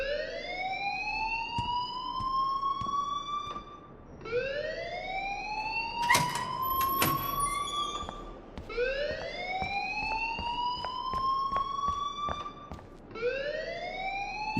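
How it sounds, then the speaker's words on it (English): School alarm in the game Life Is Strange, a wailing siren that rises and holds in repeated sweeps about every four seconds, loud and continuous, with sharp clicks and clanks scattered over it. "please turn off that alarm since that's your job"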